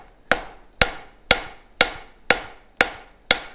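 Hammer striking metal to forge a bevel, seven sharp ringing blows at an even, steady pace, close and clear with no other sounds between them.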